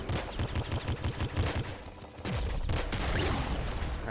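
Rapid bursts of video game gunfire from a splinter shotgun firing bolts in Nuclear Throne, a quick rhythmic volley followed by a denser, sustained roar of shots and chaotic action, loud and without talk.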